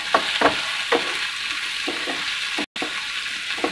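Green, yellow and red bell peppers stir-frying in a hot pan for paneer jalfrezi, a steady sizzle broken by repeated scraping strokes of a spatula, close and alone.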